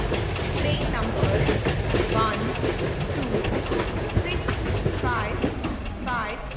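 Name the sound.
Tejas Superfast Express train arriving at platform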